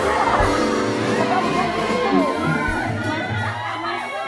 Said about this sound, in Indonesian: Berisik banget nenek-nenek.